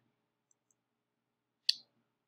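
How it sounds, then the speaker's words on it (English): A single crisp computer mouse click, close and clean, following a moment of near silence with two barely audible ticks. "I could just click on that"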